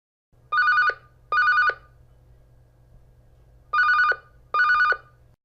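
A telephone rings in two double bursts, the bright electronic trill repeating with a pause between pairs over a low steady hum, with no voices.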